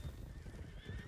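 A horse in the video game WildRP lets out a brief, loud whinny close by, mixed with the clip-clop of hooves.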